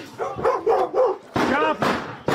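A dog barks several times in quick bursts during a police raid after a flashbang lands nearby, loud and close, with a few yelps mixed into the sequence.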